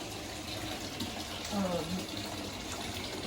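Tap water runs into a laundry tub of soaking clothes during laundry stripping, a steady, soft rushing gush that continues evenly at moderate distance.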